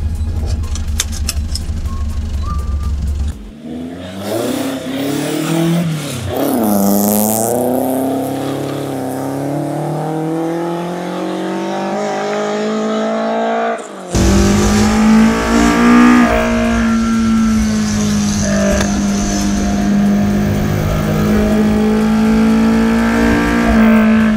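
Toyota AE86 Trueno with a 4AGE engine on individual throttle bodies driving mountain roads, its engine loud and close as it revs and climbs through gears with rising and falling pitch, then holds a steady high-revving drone.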